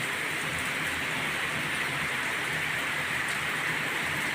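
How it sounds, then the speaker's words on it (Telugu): Heavy rain pours steadily, a dense continuous hiss of drops striking surfaces, with no voices. "అదిగోండి వాన్ అయితే బాగా పడుతుంది"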